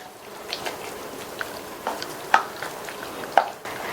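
A few soft scrapes and clinks of a spoon stirring banana stem kootu in a pan, spaced irregularly over a low background hiss.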